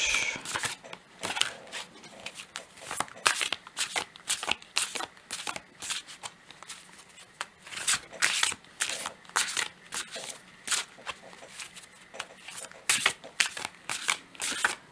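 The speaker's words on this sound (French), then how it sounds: "on va commencer par tirer une carte de ce jeu" Large oracle cards being shuffled by hand before one is drawn. Repeated crisp riffling and slapping bursts come in an irregular, busy rhythm, close and clear, with no speech.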